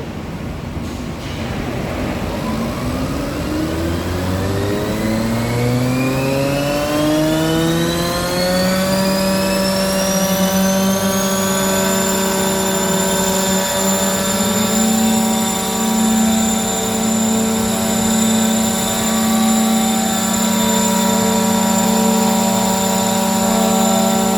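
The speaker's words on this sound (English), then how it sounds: "So now we are going to start the machine now." A Weinig Profimat 50 woodworking moulder powers up in a workshop, its motors spinning up together in a rising whine that climbs for about ten seconds, then settles into a loud, steady high-pitched hum.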